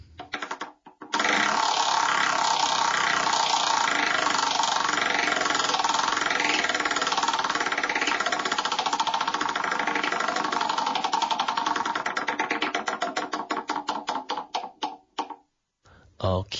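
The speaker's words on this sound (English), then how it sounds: "why don't you do the honor of spinning the verb wheel?" A verb wheel spins with a continuous rapid clicking ratchet sound, loud and close, slowing into separate ticks near the end before stopping.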